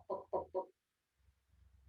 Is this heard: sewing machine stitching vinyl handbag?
no